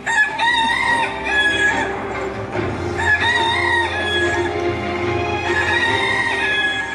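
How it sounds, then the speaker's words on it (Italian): Rooster crowing loudly and close in an outdoor courtyard during a historical Via Crucis reenactment, a long strained call repeated over about seven seconds with no talk. "si sentì un gallo cantare"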